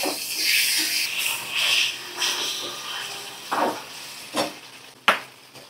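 Onion, tomato and green chilies fry in a pan with a loud, steady sizzling hiss that swells and eases, with a few clinks and taps near the end.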